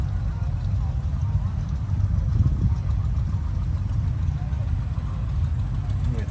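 An antique tractor engine idles steadily at a steam show in Halltown, Missouri, a low continuous rumble heard close by with crowd chatter underneath.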